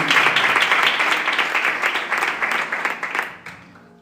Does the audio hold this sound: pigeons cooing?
no